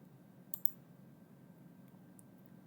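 Two quick, faint mouse clicks near each other, then a few softer clicks later, set against a low room hum while configuring software on a computer.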